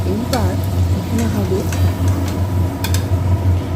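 Potatoes fry in hot oil for a biryani, giving a steady sizzle with occasional stirring clinks and a low hum underneath, while someone talks.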